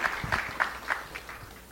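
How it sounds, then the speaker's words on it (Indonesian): An audience claps for Pak Bambang at an event, with a few clear spaced claps over a soft steady wash of applause, moderately faint and brief. "Berikan tepuk tangan buat Pak Bambang."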